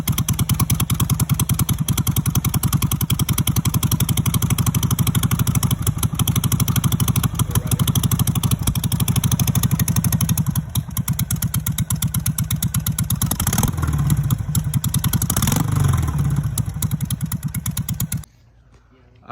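A Harley-Davidson 883 Sportster idles in neutral with its mufflers removed, a loud, steady, lumpy exhaust rumble running close-up for most of the span with a couple of brief revs before cutting off.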